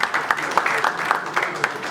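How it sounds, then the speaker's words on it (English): A seated audience applauds at a formal gathering, a steady patter of many hands clapping at close range with small swells in loudness over a couple of seconds. "Can you please give him a good round of applause?"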